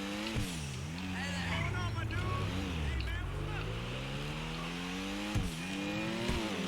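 A Pfister Comet SR sports car tears along in GTA 5, its engine revving up and down in sweeping rising and falling tones, close and loud, with tire squeal as it handles hard; someone talks over it.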